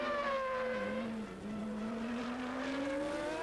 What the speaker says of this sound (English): Schumacher is in the slipstream of Ayrton Senna's McLaren Ford.